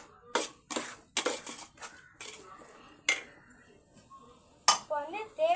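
Biryani ingredients with lemon being stirred in a pot: a series of sharp metal spoon clanks and scrapes against the pot in uneven bursts, close and clear, with a few faint vocal sounds between them.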